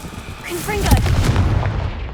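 A Confringo blasting curse detonates in the video game Hogwarts Legacy, a loud booming blast with a crackling tail that rumbles on over game music and voices for about two seconds.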